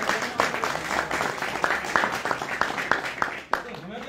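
An audience claps at a stage play, a moderate patter of hand claps mixed with voices and crowd murmur, with a short dip near the end.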